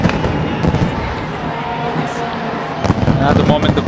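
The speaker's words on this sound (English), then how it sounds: "the fireworks are going off at the Birsa Munda Stadium to celebrate yet another victory" Dense, continuous crackling and popping of fireworks at the Birsa Munda Stadium in Ranchi after a hockey league victory, loud and sustained, with crowd noise and a commentator talking over it.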